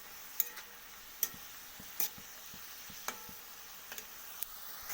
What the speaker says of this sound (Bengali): নাড়িয়ে চাড়িয়ে ভালো করে ভেজে নেব।